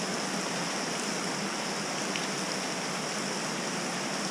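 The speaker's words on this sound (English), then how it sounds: "It is pouring rain." Heavy rain pours down during a bass fishing tournament outing, a dense, unbroken roaring wash of water at a constant loud level with no voices.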